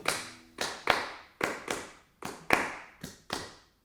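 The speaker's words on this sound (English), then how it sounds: "I'm clapping it." Hands clap a swung eighth-note blues rhythm alone, ten sharp, close claps in long-short pairs, dry and distinct, with no talking underneath.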